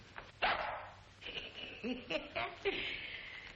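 A dog barks several short times in an indoor scene from an old comedy film, the barks loud and close, scattered over a faint background hum.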